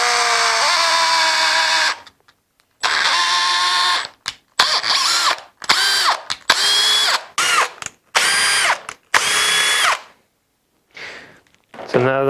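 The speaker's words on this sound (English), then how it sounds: "I got a 1/4 thread tap here, and I just take it and I run it through the center hole here" A 1/4 inch thread tap, spun by a power drill, cuts threads through the centre hole of a shop-made wooden knob in loud, whining bursts that start and stop repeatedly, with short silent pauses between them.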